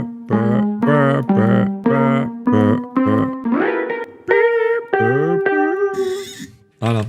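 A recreated rap beat's keyboard and bass melody steps through a run of short, punchy staccato notes, then shifts into gliding, wavering tones with a distorted, effected edge.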